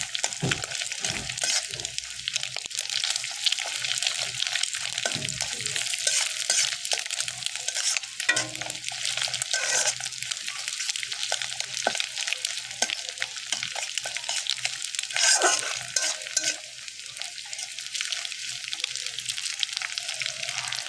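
Egg sizzling in a hot frying pan while being stirred, with a constant close frying crackle and repeated scraping strokes over about twenty seconds and no talk.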